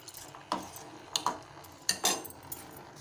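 Metal spoon scraping and clinking against a pot while sago payasam is stirred, a handful of sharp, separate clinks spread over a few seconds, close and fairly quiet, with no voices.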